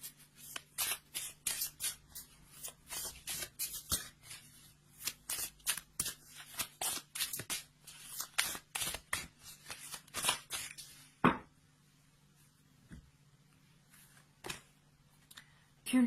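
Magical unicorns oracle cards being shuffled by hand, a quick run of crisp riffling and slapping bursts for about eleven seconds, then a few scattered taps and a quiet pause.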